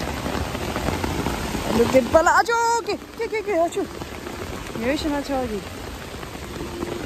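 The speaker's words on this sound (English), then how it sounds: "It's raining so hard." Heavy rain pours down outdoors in a steady hiss that fills the whole stretch, while people talk and call out over it in the middle.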